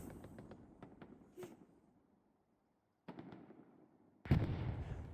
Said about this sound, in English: And again, artillery landing heavily on the point.